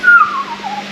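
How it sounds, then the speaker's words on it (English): A person whistles one short falling note, loud and close, gliding downward and fading within a second. "That was a better whistle."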